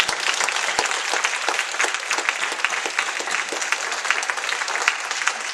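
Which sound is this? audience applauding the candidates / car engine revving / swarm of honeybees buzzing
audience applauding the candidates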